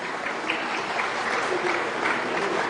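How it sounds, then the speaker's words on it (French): Light, scattered applause in a hall during a political speech on territorial reform, steady clapping from a modest audience filling the whole moment without any voices over it. "Vous avez noté la timidité des applaudissements dus exclusivement à la population féminine dans la salle"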